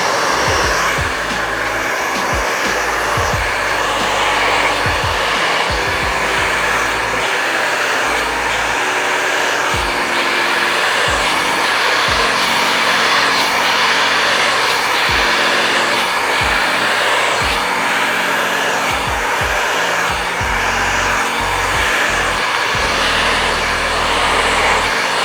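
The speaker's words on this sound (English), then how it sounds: "your blow dryer is going to follow right behind." A barber's blow dryer running on high speed and high heat, a loud continuous whooshing roar held close throughout with slight shifts as it moves through hair.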